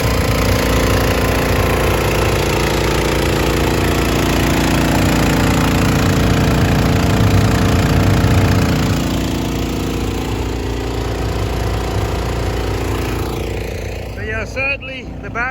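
A motor starting and running steadily up close, a loud continuous rumbling drone that fades slightly toward the end, with a brief clatter and a voice at the very end.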